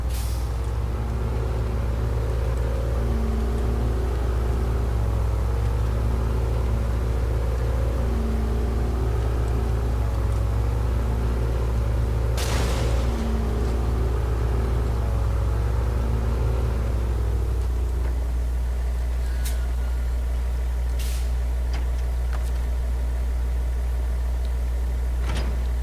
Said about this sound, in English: This truck is powerful, and it's fast